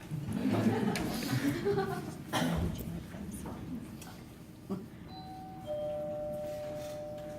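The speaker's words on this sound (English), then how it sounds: "Was that the bell?" A two-tone electronic doorbell chime sounds near the end, ringing clearly and sustaining after earlier voices and laughter in a room during a stage play.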